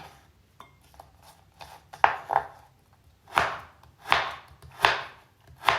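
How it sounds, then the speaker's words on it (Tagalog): A knife chops a large pile of ginger on a board for goto, steady strikes starting soft and growing into several loud, evenly spaced cuts, heard alone up close. "Kaya, marami po ang luya na aking hihiwain."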